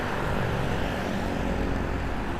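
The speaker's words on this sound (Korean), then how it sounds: "오토바이들이 한 공장으로 들어섭니다." Motorcycles ride into a factory in a vast Vietnamese industrial park, their engines blending into a steady, loud, continuous roar with no talk.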